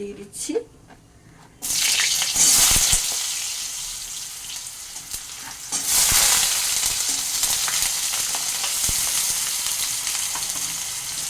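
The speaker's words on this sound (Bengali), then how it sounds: "আলুটাকে আমি মিনিট দুই নাড়াচাড়া করে তারপরে বাকি সবজি দেব" Potatoes fry in hot oil after a mustard-seed tempering, with a loud steady sizzle that swells when they hit the pan, while a spatula scrapes and stirs them in bursts.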